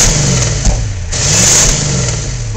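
A Ford diesel sprayer's engine revs hard and close, a loud steady roar with a brief dip in pitch midway before it climbs again, no voices over it.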